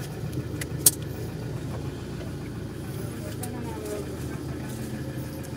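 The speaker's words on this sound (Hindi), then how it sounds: "क्लच को प्रेस करके सेकेंड गियर डाल दिया है और बिना एक्सलेटर के गाड़ी को चला रहा है।" A loading mini truck rolls along in second gear with no accelerator, giving a low, steady engine and road rumble with one brief sharp knock, while someone talks over it throughout.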